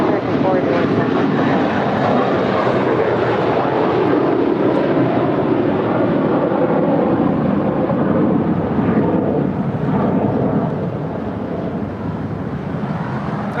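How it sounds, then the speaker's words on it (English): An American Airlines Airbus A321 departs for Philadelphia, its loud, broadband jet roar rumbling steadily for the whole stretch and easing slightly near the end, with talk faintly beneath it. "That was American Airlines Flight 481 departing to Philadelphia. It's an Airbus A321."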